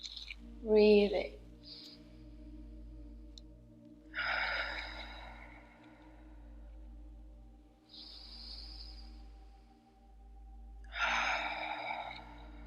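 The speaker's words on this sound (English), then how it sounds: "Breathing." Slow, audible breaths during a guided breathwork session, with several long inhales and exhales spaced a few seconds apart, soft and close, with a faint low hum underneath and no talking.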